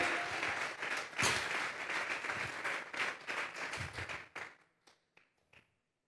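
A congregation at a church service applauds steadily for several seconds, then the clapping thins out to a few scattered, isolated claps.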